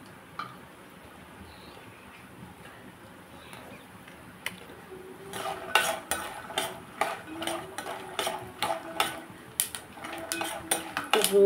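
Peanuts are roasted and stirred in a pan for idli peanut chutney: a quiet stretch gives way to a rapid, rhythmic run of close metallic scraping and rattling clinks as the nuts are tossed about.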